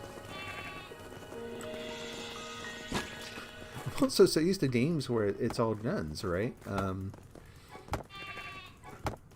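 Sheep in the Craftopia video game bleat in a wavering, quavering run, loud and close, mixed with someone talking over the game audio and a couple of sharp clicks.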